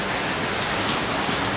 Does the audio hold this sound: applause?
no